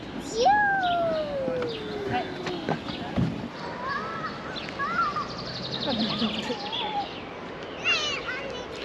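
Birds call near a seaside playground in Gąski, with several clear whistled and chirping calls scattered across the scene while adults and children talk nearby.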